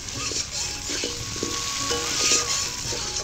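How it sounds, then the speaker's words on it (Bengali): Potatoes and tomatoes frying in oil, a close, steady sizzle with stirring scrapes and occasional crackles running through the whole stretch. "এবার আলুগুলো একটু ভেজে নেবো তেলের মধ্যে।"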